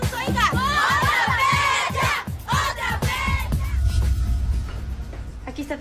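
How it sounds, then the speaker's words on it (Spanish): A group of girls shouts and screams loudly and continuously for Justin Bieber, a dense crowd of young voices with repeated cries rising and falling together, close and intense throughout. "Tenemos que gritar, chicas. Gritemos más fuerte para que Justin nos oiga."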